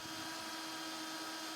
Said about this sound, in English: I'm going to drill our pilot hole first.